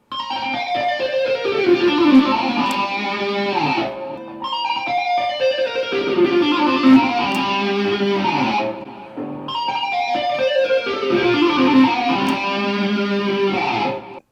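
A fast, bright electric guitar pentatonic lick repeated three times, each pass a rapid cascade of tapped notes descending in pitch, played alone without talking.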